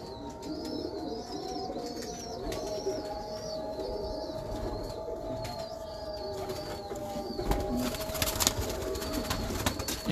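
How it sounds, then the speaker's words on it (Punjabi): Breeder pigeons coo together in a loft at feeding time, a dense, continuous chorus of soft calls near and far, growing busier with rustling toward the end. "ਲਓ ਜੀ ਕਬੂਤਰ ਦੇਖੋ ਭਾਈ ਜੀ"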